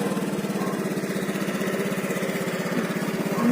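Yamaha fuel-injected scooter engine running near and loud, a steady buzzing throb that holds even and lifts slightly at the end.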